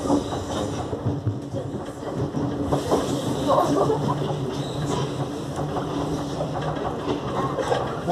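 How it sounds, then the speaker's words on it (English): Another train passes alongside an SWR Class 455 electric train running from Hersham toward London Waterloo, a steady rolling rumble with faint rail clatter heard from inside the carriage. "There's a train there."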